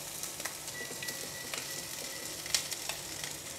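Saba fish fries in a pan with a steady, close crackling sizzle that has small pops and spits throughout, and no one speaks.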